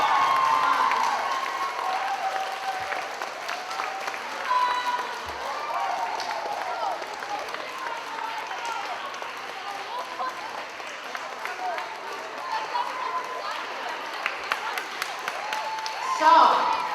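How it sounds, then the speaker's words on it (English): A school audience applauds a student speaker at a time capsule reveal, a broad sustained wash of clapping and crowd noise that holds steady, with a few cheers and a brief swell at the end. "Give Maya a big round of applause."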